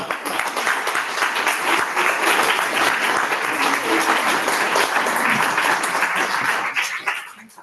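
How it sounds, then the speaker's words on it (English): An audience at a poetry reading applauds warmly, with steady dense clapping held for several seconds before tapering off at the end. "One more time, please give a round of applause for Terese here."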